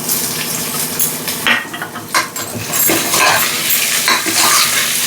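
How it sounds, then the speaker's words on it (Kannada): Field beans (avarekalu) frying in oil with onion in a pan, a steady loud sizzle with stirring scrapes and clinks of a utensil against the pan throughout. "ಅವರೆಕಾಳನ್ನು ಈ ಎಣ್ಣೆಲೇ ಚೆನ್ನಾಗಿ ಹುರ್ಕೋಬೇಕು"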